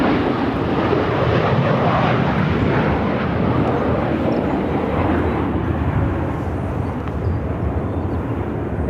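A DHL ABX Air converted Boeing 767-300ER jet at Phoenix airport gives off a loud, steady engine roar that stays strong throughout, with a broad rushing whine and no talk over it.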